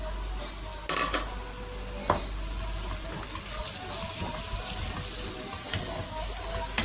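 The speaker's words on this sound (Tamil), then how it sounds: "இஞ்சி பூண்டு போட்டு ஒரு 2 நிமிஷம் வதக்கணும்." Ginger garlic paste fries with onions in hot oil, a steady sizzle under occasional sharp clinks of a spoon against the pan.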